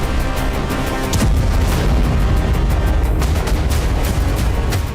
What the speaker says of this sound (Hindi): क्रास्नोदर में यूक्रेन ने तेमेरयुक पोर्ट पर एक के बाद एक कई धमाके किए।